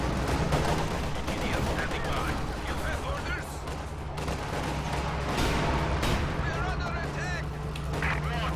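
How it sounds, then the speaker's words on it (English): Panzerschreck anti-tank rockets slamming into a Soviet KV-8 flamethrower tank in Company of Heroes 2, heavy booming hits and crackling gunfire layered densely over constant battle noise, with a commentator talking throughout. "Usually its frontal armour can deflect a few Panzerstreik shots. I think every single one has penetrated so far."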